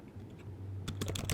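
Someone types on a computer keyboard, a quick burst of close, crisp keystrokes near the end after a quiet pause, with no talking.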